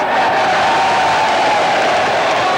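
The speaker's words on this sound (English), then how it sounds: "And the crowd jeer their former favourite." A soccer stadium crowd at a National Soccer League match between Newcastle United and Sydney City jeers a former player, a loud, sustained roar of massed voices filling the whole stretch.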